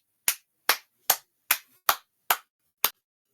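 Seven sharp hand claps ring out one at a time at a slightly uneven pace, each crisp and close, with silence between them.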